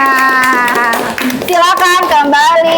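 A group clapping hands together in a classroom, brisk rhythmic claps close by with a speaking voice and tonal sounds over them.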